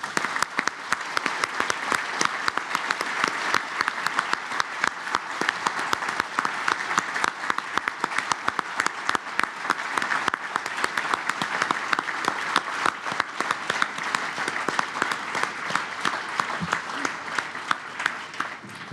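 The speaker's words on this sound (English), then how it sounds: "I want to applaud you for that" An audience gives sustained applause at a closing session in Abu Dhabi, a dense, even roar of many hands clapping that holds steady and loud throughout.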